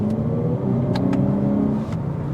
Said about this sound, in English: it stands for Active Sound Control, which lets you add pumped in sound to the speakers, and here's what it goes like